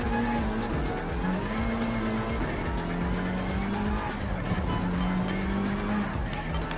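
Group 3 race cars roaring through a race in Gran Turismo 7, engines droning steadily with shifting pitch as they rev and change gear, and tyres squealing and skidding, loud and continuous throughout.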